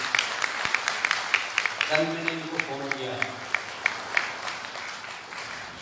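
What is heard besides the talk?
audience applause for Gajendra ji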